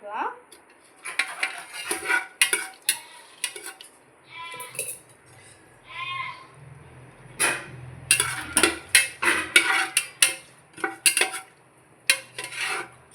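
A metal spoon scrapes and clinks against a pot while whole spices and a bay leaf fry in oil for chicken biryani in a pressure cooker, in bursts of sharp knocks with a faint sizzle between them and no speech.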